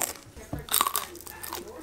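Crunchy potato-based food being bitten and chewed close up, a few sharp crunches in quick succession with soft mouth sounds between, fairly quiet.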